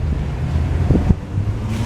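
Gusty wind buffets the microphone outdoors on a cold day at a street craft fair in Vineland, New Jersey, a steady rushing roar with low rumble throughout.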